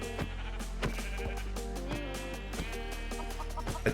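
Sheep in the Minecraft video game bleat repeatedly over a steady game hum, with short wavering cries following one another and a few clucking fowl-like calls mixed in.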